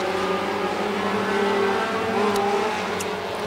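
Race cars roar at speed on an oval track during a heat race restart under the green flag, a dense, sustained engine drone at moderate distance with shifting pitch as the pack accelerates.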